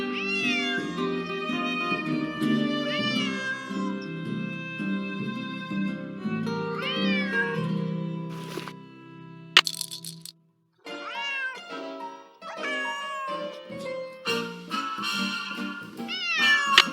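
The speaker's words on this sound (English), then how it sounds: "Otherwise, he'll just keep meowing." Cat meowing in the Nancy Drew game Secret of the Old Clock, repeated rising meows over game background music, with a brief gap near the end before more meows and music resume.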